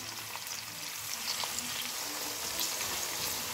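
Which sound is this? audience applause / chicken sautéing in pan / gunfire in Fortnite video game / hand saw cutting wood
chicken sautéing in pan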